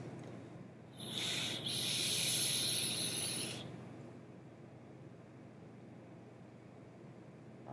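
A Praxis Vapors Derringer-style RDA clone vaped at 60 watts with its airflow fully open gives a steady airy hiss that swells for about two and a half seconds of one long draw, then fades into quiet background.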